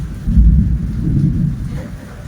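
Steady rain with a deep rumbling low end, continuous and fairly loud throughout, like a downpour during a storm.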